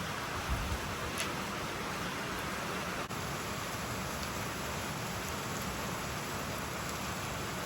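Heavy rain falls steadily on a farm where cows stand out in the downpour, a dense, even hiss that goes on unbroken and close, with no one speaking.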